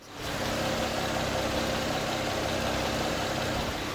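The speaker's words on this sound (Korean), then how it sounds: "굉장히 정숙한 6기통의 엔진 소음 들으실 수 있습니다" A Hyundai Grandeur HG V6 engine idles with the hood open, a steady low hum, smooth and even, fairly close with a faint mechanical whir and no voices over it.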